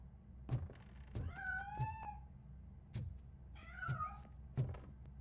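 A cat meows twice in the RoboCop game Spike in a Haystack, clear rising-falling cries set against repeated dull thumps and knocks spaced about a second apart, with no voices.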